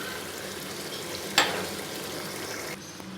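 Mutton masala sizzling and frying over a high flame after a splash of water is added, a steady crackling hiss with a sharp burst of sizzle partway through before it settles back down.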